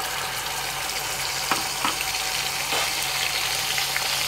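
Tomato paste hissing in hot oil tempered with asafoetida, a steady close broadband sizzle with a few soft clicks from the pan and no talking.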